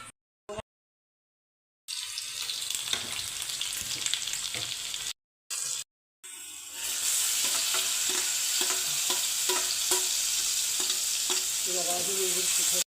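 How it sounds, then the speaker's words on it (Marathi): Oil poured into a hot pan for methi sabzi, short bursts of sizzling broken by brief silences, then a loud continuous frying hiss with scraping stirs that holds steady to the end. "हे बघा मी तेल घालते"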